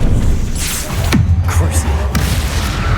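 Confringo spell blasts in Hogwarts Legacy land as sharp booming thuds with a short low rumble after each, several in quick succession amid battle noise.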